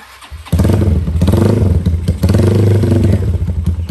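A Honda CB motorcycle engine starts up loud and close after a brief quiet moment, then idles and revs with a steady, throbbing rumble and some mechanical clatter.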